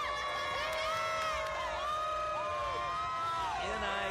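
A crowd at a Clemson home college basketball game against Oakland, in a first-round tournament matchup, keeps up a continuous roar with whistles and shouts rising and falling, filling the arena throughout.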